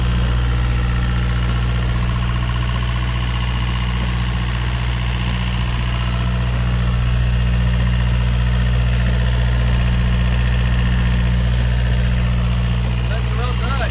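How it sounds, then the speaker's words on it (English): A sailboat's engine runs steadily at a low, throbbing idle with constant vibration, close and continuous throughout, with faint voices now and then beneath it. "The engine was running really well."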